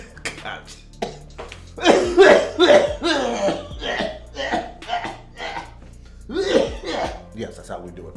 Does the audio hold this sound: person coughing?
yes